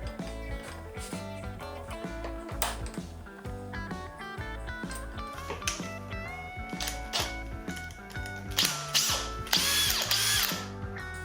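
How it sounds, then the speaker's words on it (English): A Kreg K5 pocket hole jig's clamping mechanism ratchets repeatedly, a close, loud series of rapid mechanical clicks and clacks that continues throughout, growing busier and sharper near the end. "This clamping mechanism is one of the reasons why I like the K5 so much."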